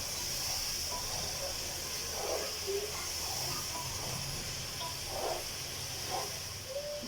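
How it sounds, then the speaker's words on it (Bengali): Fried egg and potatoes cooking in masala for egg biryani give a continuous close sizzling hiss, with a few soft scraping bursts mixed in. "এই মশলার সাথে কিছুক্ষণ কষিয়ে নেব।"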